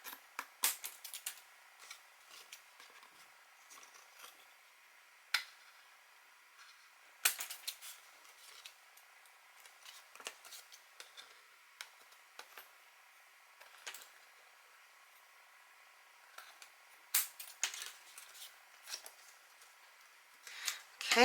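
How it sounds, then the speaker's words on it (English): Scissors snip along the edges of a dried acrylic paint pour card, giving short faint cuts spaced irregularly with quiet pauses between them. "I'm just going to cut off these edges here."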